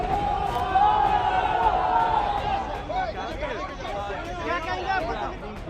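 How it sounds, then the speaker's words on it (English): Dense crowds pack the streets of Kolkata during a TMC protest march: a continuous roar of overlapping voices and chatter, loud and close, with a person speaking over it. "Kolkata streets choke with crowds."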